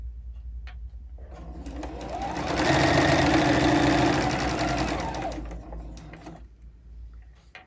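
A sewing machine runs a continuous stitching burst on a fabric face mask, ramping up, holding steady for a few seconds and winding down, close and clear with no talk.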